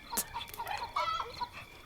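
Hens cluck and cackle as a sound effect in a fantasy audiobook reading, with a quick run of close, clear clucks and squawks.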